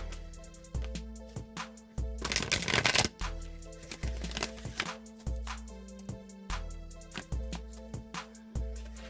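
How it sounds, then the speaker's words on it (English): A deck of oracle cards gets riffled and tapped in quick repeated bursts, close and crisp, over a faint sustained musical drone. "One more shuffle."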